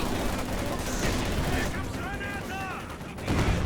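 Gunfire crackles in a Company of Heroes 2 battle, with a dense, continuous run of rapid shots and mechanical clatter and a heavier blast near the end.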